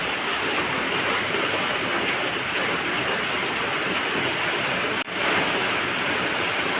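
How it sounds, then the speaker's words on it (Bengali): Heavy rain pours outside, a dense, steady roar of water falling and splashing that continues without a break, with one brief dip partway through. "বাইরে শুরু হয়েছে ঝমঝমিয়ে বৃষ্টি"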